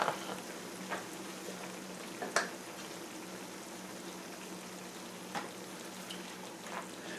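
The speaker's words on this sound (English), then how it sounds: "We're going to let this simmer a little bit" Creamy roasted tomato sauce with salt and red pepper flakes simmers in a pan, a steady soft bubbling sizzle with a few faint utensil taps, no voices.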